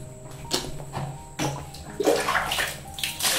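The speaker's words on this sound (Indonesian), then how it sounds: "Ini kita siram gini dulu ya tadi sebelum buang angetnya" Hot water is poured over instant spicy garlic aglio olio pasta in short splashing bursts, sloshing and trickling close by in uneven pulses against a faint steady hum.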